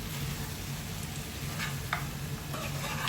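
Angamaly-style pork roast sizzling and frying in a pan while being stirred, a steady crackling hiss with a few faint scrapes of a spoon against the pan.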